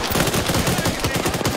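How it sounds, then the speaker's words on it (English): Automatic gunfire in the Arma 3 military game rattles in a rapid, continuous burst of loud shots whose reports ring and reflect off surrounding surfaces. "Gunfiring sounds now travel and reflect off surfaces, making you feel the chaos of a gunfight at a deeper level."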